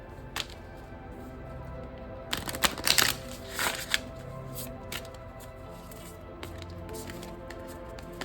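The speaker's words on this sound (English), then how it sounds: "I'm gonna shuffle this deck now and see what we have here" Tarot cards are shuffled in quick riffling bursts, a brisk flurry of papery slaps followed by lighter taps and rustles.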